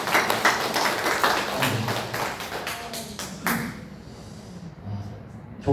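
Congregation applause during a Sunday church service, a short burst of clapping from a modest group that fades after a few seconds into quieter room noise with light thumps.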